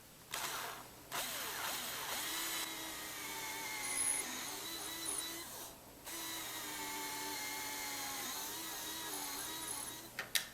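A small drill bores holes in an Atlas #305 model railroad turntable: a faint, high whine with rising and falling pitch as the bit works, broken by brief pauses, then a couple of sharp clicks at the end.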